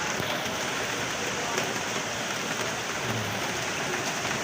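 Steady rain pours down over Ayala Market in the Philippines, a dense continuous hiss that holds at an even level throughout without letting up.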